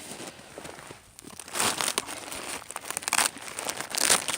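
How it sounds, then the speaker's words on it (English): Velcro on the door of a Flytop four-season tent in snow rips open in a few crackling tearing bursts, close and fairly loud, after a quieter start. "There's Velcro."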